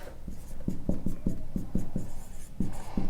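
Chalk or marker writing a sentence on a classroom board, a rapid series of short tapping strokes in quick bursts with a brief pause, close and fairly loud.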